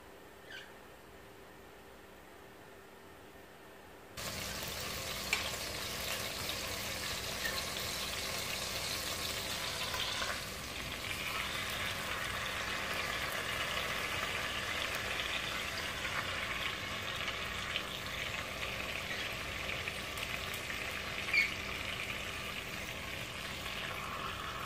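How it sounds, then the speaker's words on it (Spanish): Chicken pieces frying in oil: after a few quiet seconds a steady hissing sizzle starts suddenly and carries on evenly at moderate volume, with occasional small pops, no voices. "a poner lo que son nuestras piezas de pollo. A freír un poco junto con el aceite."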